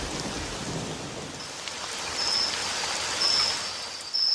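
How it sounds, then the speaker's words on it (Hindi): Rain pours in a constant hiss with a low thunder rumble near the start, the downpour swelling a little louder toward the end. "आज तो बारिश हो रही है, इसको थमने दो, फिर जाऊंगा।"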